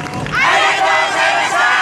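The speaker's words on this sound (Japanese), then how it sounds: "たくさんの拍手ご声援ありがとうございました" Crowd cheering and shouting at the Omigawa YOSAKOI furusato festival main venue, a loud close burst of massed voices with clapping, brief and continuous.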